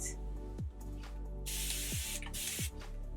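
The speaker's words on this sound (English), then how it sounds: "spray it so it's not soaking wet." Two long hissing bursts from a mist spray bottle dampening wavy hair, close and steady, with brief gaps between them over a low background hum.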